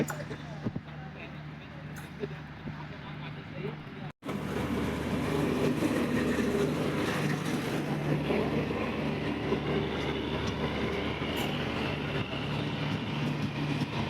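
A train's loud, continuous rumble builds and carries on steadily as the Ratnagiri–Diva passenger train arrives, with voices talking faintly beneath the rolling noise.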